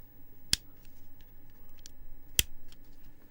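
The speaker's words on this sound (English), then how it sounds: "That is the sound of a power switch." Two sharp, quiet clicks from the power switch on HDZero FPV goggles, spaced about two seconds apart against a faint background hiss, with no talking.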